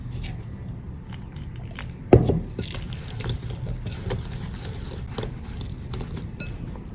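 Cake batter made with medium-thick coconut milk being stirred in a bowl, a soft wet sloshing with a sharp clink of a utensil against the bowl near the start, continuing as a low, steady mixing.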